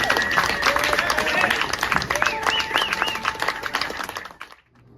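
Audience applause after a performance, a lively round of clapping with crowd cheers and whistles mixed in, fading away abruptly near the end.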